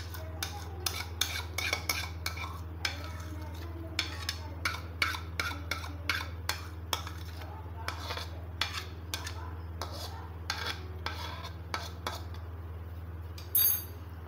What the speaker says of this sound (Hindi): तो अब ये मैं डेगची में डालूँगी।